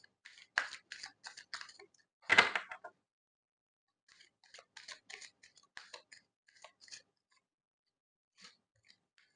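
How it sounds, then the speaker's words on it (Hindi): Tarot cards being shuffled by hand: quiet, crisp riffling and flicking bursts, one louder flurry near the start, then scattered soft card snaps with silent gaps between. "जब तक मैं शफल कर रही हूँ आप प्लीज फोकस बना के रखिए।"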